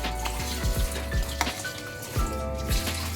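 Crab curry simmering and sizzling in a pan, with a steady frying hiss and soft bubbling pops, plus a few faint clinks of stirring, close and continuous with no talk over it.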